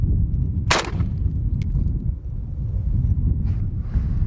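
A 7.62x39 AK rifle with a 10.5-inch barrel and a Dead Air Wolverine suppressor fires one sharp, loud shot outdoors, then a fainter second crack follows, over steady wind rumble.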